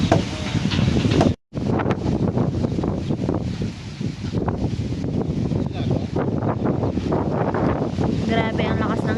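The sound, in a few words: very strong wind blowing on a boat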